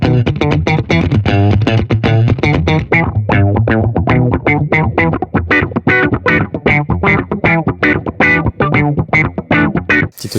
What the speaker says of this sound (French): Là, c'est une auto-wah.